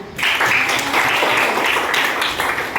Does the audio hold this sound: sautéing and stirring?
no